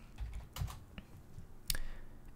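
A search keyword typed on a computer keyboard, a short burst of close, crisp key clicks in an uneven rhythm, with a sharper final keystroke.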